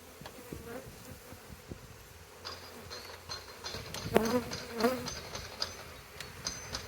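Honey bees buzz around a strong colony whose ten hive frames are densely covered in bees, a steady close-up hum with brief louder passes from individual bees, heard alone without talk.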